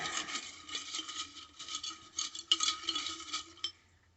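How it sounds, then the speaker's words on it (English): Cut paper shape pieces stirred around in a container, producing a quiet, irregular scratchy rustle and scrape that comes in bursts before fading out. "Let me stir these ones up a little bit."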